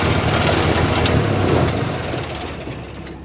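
A 2008 BMW 335i idles loudly and roughly, a dense, rattly engine drone close up that fades slightly toward the end, with no voices.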